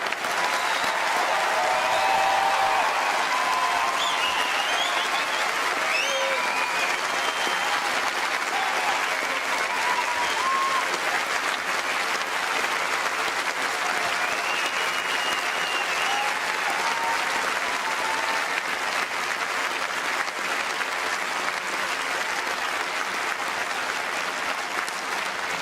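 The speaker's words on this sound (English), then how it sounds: "join a great round of applause for our new graduates" Sustained, dense applause from a large audience at a 2008 graduation ceremony, a steady full round of clapping for the new graduates lasting the whole stretch with faint cheers mixed in.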